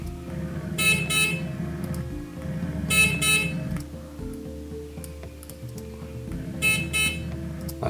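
Short electronic sync beeps recorded on a camera mic, repeating in three bursts a couple of seconds apart over a low steady hum, fairly faint and with no talking.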